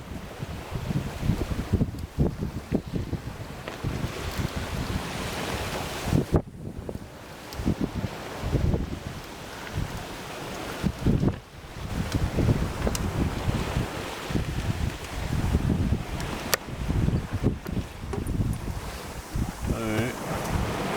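Strong wind on the open sea aboard a Swan 48 sailboat offshore, gusty roaring buffeting with rushing water and microphone wind noise, rising and falling in waves, with brief voices underneath.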